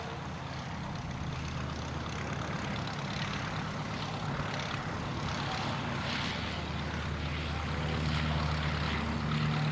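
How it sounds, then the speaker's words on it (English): A Miles aircraft takes off at an evening air display at Shuttleworth, its piston engine and propeller giving a steady, fairly distant drone that builds slightly louder toward the end, alone without talk. "So the Miles takes off, followed by the Pagata."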